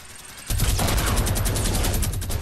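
Rapid automatic gunfire in the video game Fortnite bursts in suddenly and continues as a loud, dense stream of shots.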